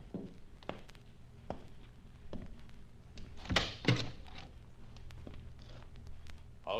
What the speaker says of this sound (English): Please close the door and come in.